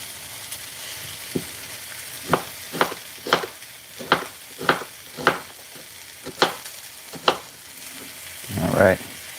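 Onion fries in a hot pan with a steady low sizzle, broken by sharp clicks and taps of stirring and a louder rustle near the end.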